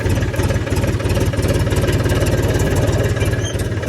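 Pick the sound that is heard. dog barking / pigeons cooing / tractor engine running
tractor engine running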